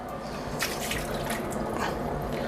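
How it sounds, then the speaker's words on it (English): Boiling water from a kettle poured onto a carbon steel pan, a close, steady splashing stream with brief sizzling bursts throughout. "I'm going to pour 1 kettle boiling water onto the pan"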